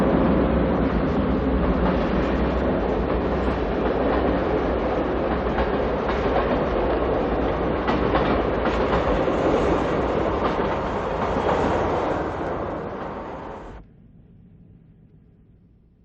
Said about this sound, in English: we see the eastbound Broadway Limited, train 28, as it slows for a speed restriction in the area